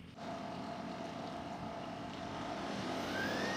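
Range Rover L322 with suspected turbo trouble giving off a steady hissing, pressure-release rush, heard close and continuous for several seconds with a faint tonal whine and some wind buffeting, no voices.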